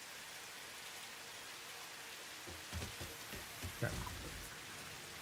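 Steady rain falls throughout, a continuous hiss of drops on surfaces, with a few louder patters and knocks midway and a brief spoken word.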